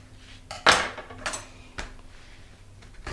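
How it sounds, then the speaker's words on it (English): A knife cuts through a lemon on a cutting board, giving one firm knock followed by a few lighter taps and chops, close and fairly quiet. "I'm going to cut up a lemon"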